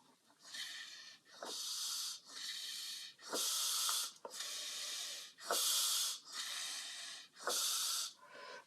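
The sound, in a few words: breathing in through the nose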